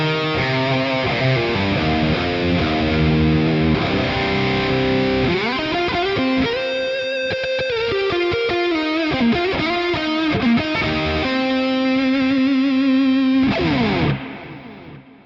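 Electric guitar played through the first stock preset of a Valeton GP-5 multi-effects unit, a sustained distorted, chorus-tinged tone with chords and single-note lines ringing loudly and continuously before fading out at the end.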